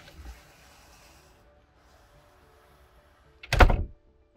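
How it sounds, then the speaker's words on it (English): An old sliding house door is pushed shut against a small stopper block, giving a single sharp, close knock after a quiet stretch with faint earlier rustling. "This was a very breezy doorway, the old sliding door."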